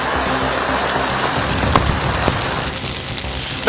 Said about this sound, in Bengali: দক্ষিণবঙ্গের একাধিক জেলায় বজ্রবিদ্যুৎ সহ ভারী বৃষ্টি হচ্ছে